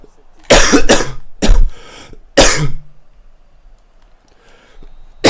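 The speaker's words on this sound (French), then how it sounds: "Putain, je vais tousser en plus." Several harsh, close coughs come in quick bursts, two then one then another, separated by quiet pauses, with a faint softer sound near the end, over a FIFA 18 game session.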